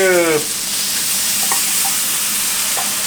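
Chinese chives, egg and ground meat stir-fry with mixed seasoning in a frying pan, producing a loud, continuous close-up sizzle with a few faint clinks after a brief tonal sound at the start.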